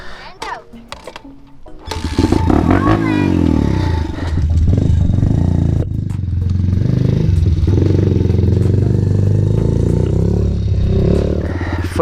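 A Honda Grom pit bike engine revs hard during wheelie practice, sitting close and loud with a steady rising and falling drone that holds for about ten seconds after a quieter start.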